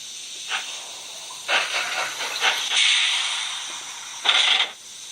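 Hissing steam chuffs from a Bachmann E-Z App model steam train come in a few irregular bursts, some short and some longer, separated by brief quiet gaps.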